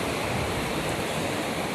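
Steady, loud wash of surf at a beach, a continuous broadband roar of waves with no talk and no distinct breaks.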